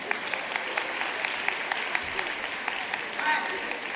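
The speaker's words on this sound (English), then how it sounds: "Clap your hands if you really believe that." An audience at a motivational speech claps along, a lively spread of hand claps with distinct individual slaps standing out over the general patter, moderately close and sustained throughout.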